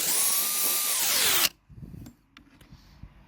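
A power drill bores Sikaflex sealant out of holes on a boat being repaired for leaks, its loud, steady motor whine running close up before spinning down, followed by quieter scraping and handling noises.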